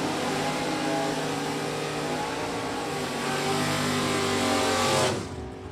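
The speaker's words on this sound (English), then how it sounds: "James Reed out of Lincoln, Illinois with his 2017 Camaro Factory Stock B, and he is off and running" A 2017 Camaro Factory Stock B drag car launches at a stock-class drag race, its engine roaring loud and steady for about five seconds before dropping off abruptly as it pulls away.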